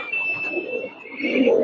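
Giribaz pigeons at a loft coo softly in a brief low throaty burst, with a faint high whine in the background and no talk.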